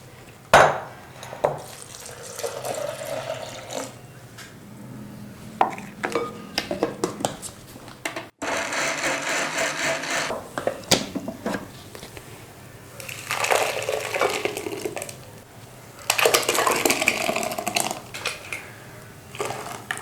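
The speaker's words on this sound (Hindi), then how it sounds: "इसको जूसर वाले जग में चला लें, थोड़ा थोड़ा करके पानी डाल के।" A juicer jug grinds soaked corn with water while making homemade cornflour, in bursts of whirring and clattering with short pauses between runs.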